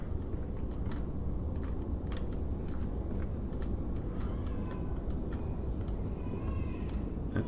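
In Amnesia: A Machine for Pigs, a cat meows with a baby-like wail, heard as several faint cries over a dense, steady rumbling drone.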